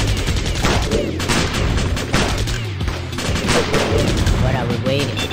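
Rapid, continuous bursts of gunfire in the video game War Heroes: Invasion, loud and dense throughout, with overlapping blasts.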